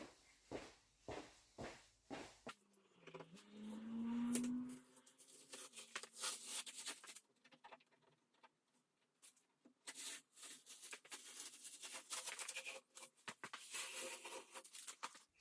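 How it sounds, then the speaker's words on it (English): Masking tape peels slowly off a freshly painted Mk2 Golf GTI 16v reproduction front bumper, close by, with a run of soft rhythmic rubs, then drawn-out tearing rasps in uneven bursts separated by short pauses. "So now we'll just gently pull that tape off and see what we're looking at."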